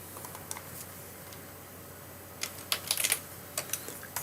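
Keys on a computer keyboard clack faintly at first, then a quick burst of close, crisp typing taps fills the second half over a quiet room hum.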